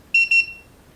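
A small LiPo battery balance charge tester for a two-cell 7.4 volt, 2000 mAh pack gives two short, loud, high electronic beeps in quick succession, then a brief fading tail.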